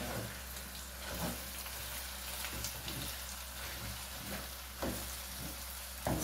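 Pickled vegetables roasting in a pan for a Black Sea regional dish, giving a steady crackling sizzle with occasional louder scrapes and clatters as the food is turned over, close and without talk.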